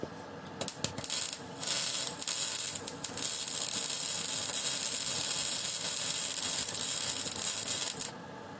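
A Rilon Profi MIG 200 semi-automatic welder burns 1 mm wire with a steady crackling hiss. It comes in short bursts at first, then runs as one loud continuous stretch before cutting off.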